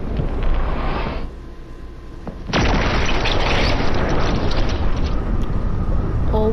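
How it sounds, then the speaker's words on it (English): A missile strike explodes in Fortnite, a loud broadband blast erupting midway and holding as a sustained roaring rumble, after a quieter stretch of low game noise. "And then the missile just come through again."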